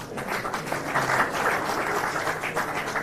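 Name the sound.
audience applause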